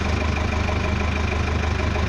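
A Caterpillar 416B backhoe loader's diesel engine idles in a steady, continuous rumble with a faint knocking texture, close and unchanging throughout.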